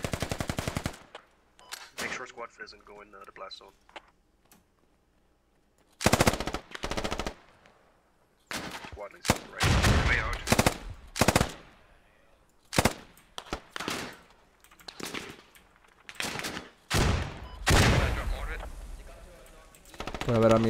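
Machine-gun fire in the tactical shooter game Squad, loud, ragged bursts and scattered shots spread through the stretch, mixed with excited voices talking over the shooting.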